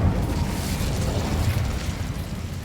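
Incendio fire spell cast in Hogwarts Legacy, a loud sustained fiery whoosh with a booming burst that rolls on for a couple of seconds, heard alone without speech.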